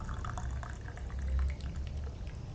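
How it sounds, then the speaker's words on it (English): Hot water from an electric kettle poured into a drinking water bottle in a hostel, a continuous close liquid gurgle and splash with a low rising fill tone, no talking. "pour some into my water bottle of water to fill up my drinking water"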